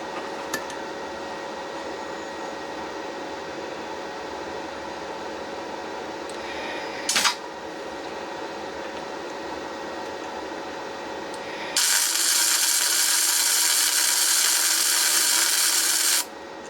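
Tack welding a nut onto a broken exhaust bolt on an engine head: a steady buzzing hiss from the welder runs throughout, broken by a brief sharp burst near the middle, then a louder, brighter crackling spell of a few seconds toward the end.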